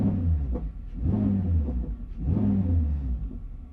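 2023 Chevrolet Corvette C8 or Z06 engine revved while parked, two deep rumbling blips that rise and settle back to idle, close to the microphone.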